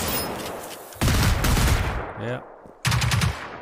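Bursts of automatic weapon fire in Generation Zero, two loud volleys separated by a short pause, with a brief spoken word between them.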